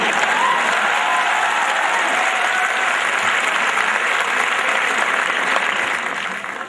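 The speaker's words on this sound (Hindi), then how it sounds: "वैसी वैसी नमस्ते पे ताली भी वैसी ही होनी चाहिए भाई" Steady, sustained audience applause fills the hall at a Hindi comedy poetry gathering (hasya kavi sammelan), loud and continuous from start to finish before tapering slightly at the end.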